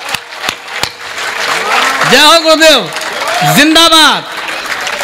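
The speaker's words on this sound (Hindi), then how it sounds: "एक बार जोरदार तालियां दोनों हाथ उठा के" Applause and crowd noise from the audience at a Hindi hasya-vyangya kavi sammelan form a steady wash in the background. Loud voices chanting in unison ride over it.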